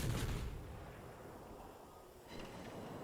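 Warship guns fire in a naval video game during a one-on-one brawl as USS Helena: a booming salvo at the start rolls into a rumbling decay, with another dull blast later, moderately distant.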